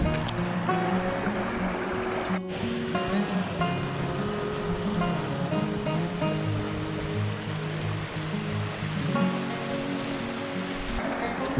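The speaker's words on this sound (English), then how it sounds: "It's such a little oasis here between the mountains, and you have this little river over here" A small, ice-cold mountain river flows steadily between mountains, a loud continuous rushing with a brief dip near the start and faint tonal sounds drifting through.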